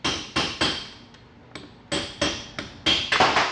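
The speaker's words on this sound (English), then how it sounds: "You want to hammer away" A hammer striking the metal governor cover of a TH350 automatic transmission during disassembly, in separate sharp taps, irregularly spaced, with a quicker cluster of blows near the end; close and loud.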